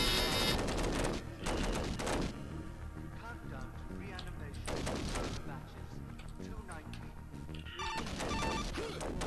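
Rapid bursts of gunfire from the Sega CD game Demolition Man crackle in dense volleys, loudest at the start and again near the end, with game sounds and chatter mixed in.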